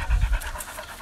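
A dog panting heavily and rapidly up close, quick rhythmic breaths with no speech over them.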